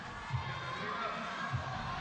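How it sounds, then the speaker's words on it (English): A spectator crowd murmurs and reacts at a women's bouldering semi-final in Keqiao, a soft, distant, sustained hubbub with a couple of dull thumps, partly under a commentator's voice. "listen to the crowd react"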